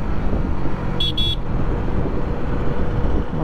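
Two short car horn toots sound close by on a busy Indian road, heard over continuous traffic rumble on a drive from Badrinath to Gurgaon.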